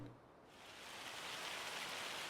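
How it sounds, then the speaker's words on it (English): Hail falling in Farming Simulator 25, a steady dense hiss of pelting ice that swells from quiet to fuller over a couple of seconds, heard alone without talk. "That sounds like hail."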